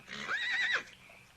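A single horse whinnies at a distance, a wavering high neigh lasting under a second before fading into quiet.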